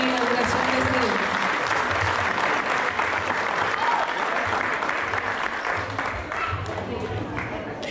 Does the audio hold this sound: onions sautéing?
no